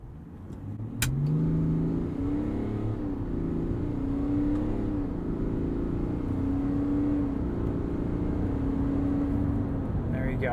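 A 2021 GMC Yukon Denali with the Duramax diesel pulls hard from a standstill toward 60 mph, engine droning steadily with rising tone and gear shifts, heard from inside the cabin.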